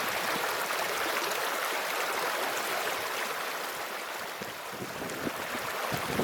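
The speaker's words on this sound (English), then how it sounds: "Water coming in from everywhere." Wild river in the Welsh uplands near Plynlimon, water rushing and tumbling from all sides in a steady, loud, broadband wash with no voices.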